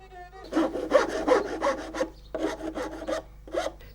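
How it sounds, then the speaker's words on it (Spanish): Rhythmic rasping strokes scrape across the wooden body of a rabel in repeated bursts, a close, gritty back-and-forth with short pauses between sets, as a rasp, knife and sandpaper smooth the outer surface. "Con la escofina, la navaja y la lija, este rabelista repasa la superficie exterior del instrumento"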